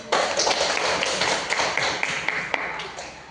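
A small class of students applauds together, a dense burst of hand claps at close range sustained for a few seconds with no talk over it.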